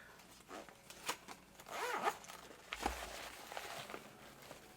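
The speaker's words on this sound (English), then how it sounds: "You got a main zipper compartment." A zipper on a Supreme Cordura fabric bag is pulled open in a few short rasping runs, close and fairly loud, with light handling rustle around it.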